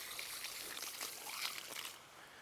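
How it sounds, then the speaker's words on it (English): Faint, steady hiss of tap water running while hands are washed after gardening, a soft continuous trickle that thins out near the end, no talking. "Wash the crud off my hands."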